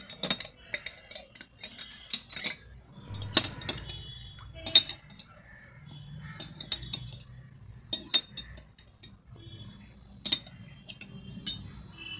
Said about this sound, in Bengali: এবার এটাকে ভালো করে নাড়াচাড়া করে নিচ্ছি। যাতে সমানভাবে এটা মিশে যায়।